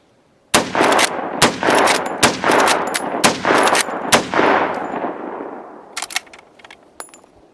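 A Winchester Model 64 lever-action rifle fires a quick series of about six or seven loud, sharp gunshots outdoors, each crack trailing into a reverberating tail, followed by metallic clicks of the action being worked.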